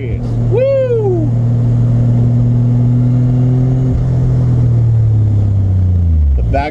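Toyota MK3 Supra with a turbocharged 7MGTE engine revving loud and close, a steady low drone with a quick rising rev sweep and a brief crackle near the middle, with no distinct backfire pops standing out.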